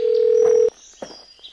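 A telephone dial tone sounds steadily and loudly for just under a second, then cuts off. A few faint clicks and short dialing sounds follow at close range as a call to the police is placed.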